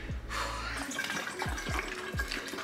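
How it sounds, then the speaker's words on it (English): A tap runs into a water bottle as it is filled, a steady close rush of water with soft low thumps and gurgles repeating as the bottle fills. "I should probably fill up my water bottle, huh?"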